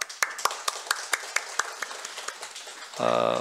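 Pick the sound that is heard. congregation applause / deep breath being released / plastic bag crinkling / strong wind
congregation applause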